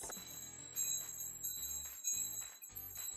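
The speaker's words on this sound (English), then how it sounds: "It's a wind chime." Wind chime ringing with layered, sustained metallic tones and bright overtones, struck repeatedly in irregular clusters with short gaps, fairly close and moderately loud with no talking.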